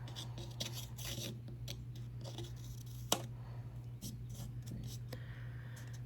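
A pencil outlines shapes on palette paper for an abstract landscape, giving faint, close scratchy strokes in short uneven bursts, with one sharper tap midway against a low background hum.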